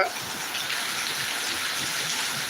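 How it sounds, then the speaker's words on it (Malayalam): Heavy downpour with thunder around, a dense steady hiss of rain falling hard and close, with no talk. "പെരുമഴ പെരുമഴ അട്ടിപ്പൊളി മഴ"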